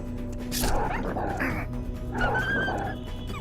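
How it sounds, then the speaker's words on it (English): Dogs in the dark fantasy game Castle Torgeath bark and yip in two short bursts, close and fairly loud, over a steady low ambient rumble. "dogs."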